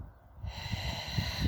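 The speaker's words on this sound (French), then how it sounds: "Et sur l'expiration, soufflez bien." A forceful breath pushed out hard through the nose and mouth during a Pilates breathing exercise, a near, breathy rush that builds over a second or so, with no speech.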